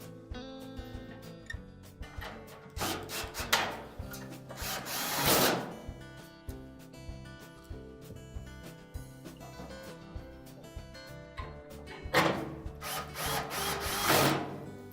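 A power driver tightens the retaining screws on a Whirlpool dryer during a rear drum roller shaft repair: two short whirring bursts, one in the middle and a longer one near the end, with quiet handling and clicks between them.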